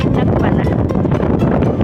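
Strong gusts of wind buffeting the microphone in a park in Taoyuan, Taiwan, at night, a loud continuous rough roar with choppy bursts and no clear talk.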